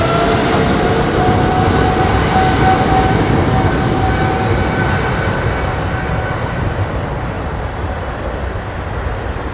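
A GE-engined airliner at London Heathrow, a continuous broad jet roar with a faint steady whine, loud at first and gradually easing off, no talking.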